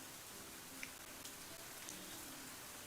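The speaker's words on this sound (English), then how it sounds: "We stand in the rain in silence for a moment" Rain falls steadily and softly outdoors near a lake with an alligator, a dense even patter with a few louder drops landing close by.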